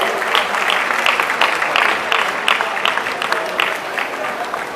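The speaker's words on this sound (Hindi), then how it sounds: "can we have a huge round of applause everybody" Loud applause from a large audience at a science festival event in Bhopal, welcoming the Chief Minister; dense continuous clapping with scattered sharper claps, steady throughout.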